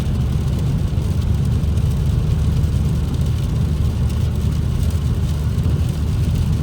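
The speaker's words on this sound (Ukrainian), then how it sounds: "зараз ми спробуємо набрати 120 км на годину." A Volvo V50 accelerates toward 120 km/h on a highway, heard from inside as a loud, steady, low engine drone and road rumble that fills the whole stretch without a break.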